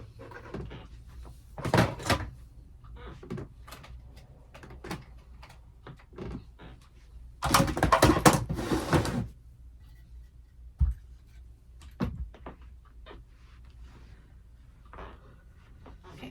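Items being put into a bottom pink desk drawer: scattered clunks, rustles and a longer sliding rattle of the drawer, close by and intermittent, with no talk.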